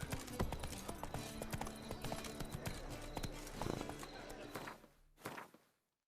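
Horse galloping through The Witcher 3: Wild Hunt, a rapid, steady run of close hoofbeats with creaking tack and game ambience, slowing and trailing off at the end, with a brief voice near the finish.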